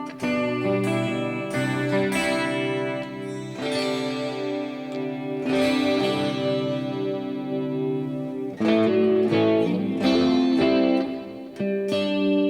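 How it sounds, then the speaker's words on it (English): Electric guitar chords and notes ring out through a cheap multi-effect unit with a heavy, washy reverb that lets each strum sustain and blur into the next, played alone without talk. "It's a lot of reverb."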